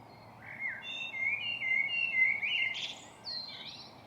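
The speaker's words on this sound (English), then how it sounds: "The birds singing in the background." Birds whistle and chirp in varied phrases outdoors in trees at Bothwell Castle, a clear song rising and falling over a quiet background hum, with a short pause near the end.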